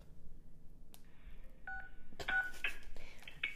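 Phone call tones beep faintly in a short irregular series of dial-pad style tones, sparse at first and then quicker, over a low background murmur.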